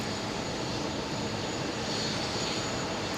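A JetBlue airliner departs JFK bound for Cartagena, its engines producing a steady, loud, broadband roar that holds even throughout, with no voices.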